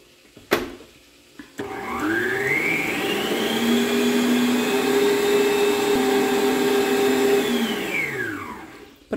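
An electric mixer whirs up to speed, runs steadily for several seconds beating chocolate cake batter with eggs, then winds down, preceded by a couple of sharp knocks, close and loud with no talking.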